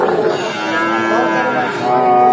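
A Friesian heifer, about six or seven months old, moos at a busy cattle market, the call sustained and fairly loud over a constant crowd murmur.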